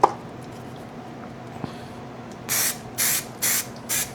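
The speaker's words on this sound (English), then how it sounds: "3M Super Strength Spray Contact Cement" 3M Super Strength spray contact cement sprayed onto the back of a slingshot target, four short, loud hissing bursts in an even rhythm after a quiet start.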